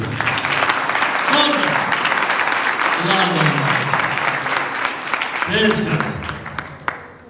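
A church congregation at a Sunday service claps loudly and steadily for Jesus for several seconds, with voices calling out over the applause before it thins at the end.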